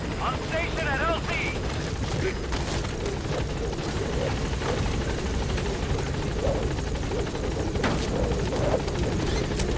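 Pequod support helicopter arriving at a landing zone in the Metal Gear Solid V video game, a steady rotor thrum and engine drone running throughout under game speech and background sounds.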